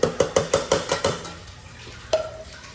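Blended spice paste goes into a cooking pot as a quick run of about seven metallic clinks of a utensil against the pot, then quiet, then one last ringing tap.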